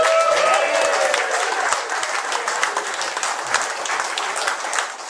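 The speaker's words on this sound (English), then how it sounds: "Maybe another big round of applause for Naomi." Audience applause fills the room for a performer at a Gran In A Van show, a loud, steady wash of clapping that holds throughout with a brief voice rising over it at the start.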